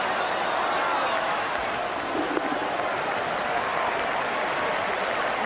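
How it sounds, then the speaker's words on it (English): A capacity crowd at Eden Park during a cricket semifinal, steady loud cheering and applause filling the whole stretch without a break. "There's certainly plenty of atmosphere here at Eden Park this afternoon. It's a capacity crowd"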